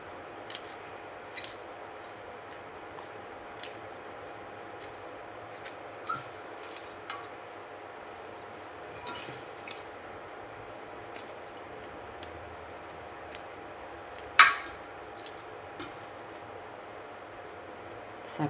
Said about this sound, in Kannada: ಚಿಕ್ಕದಾಗಿ ಕಟ್ ಮಾಡ್ಕೊಬಿಡುವ.